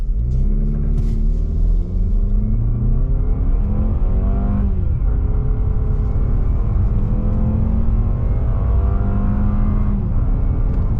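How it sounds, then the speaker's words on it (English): A 2025 Mazda CX-30 Carbon Edition in sport mode launches from a brake rev for a 0-60 run. The engine is loud and close, its rising drone climbing steadily and dropping briefly at each gear shift, with no talk. "0 to 60 in the 2025 Mazda CX-30."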